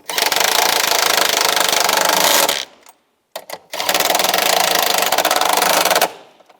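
An impact gun or power tool runs in two long rattling bursts as it tightens the shock absorber nuts on a 2004-2010 BMW X3, loud and close, with a brief quiet gap and a few clicks between.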